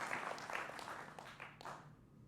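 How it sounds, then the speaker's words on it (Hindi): A studio audience at a televised debate gives a short burst of applause to welcome a panelist. The faint, scattered clapping comes in a few waves and then fades to quiet. "जोरदार तालियों से के साथ स्वागत है"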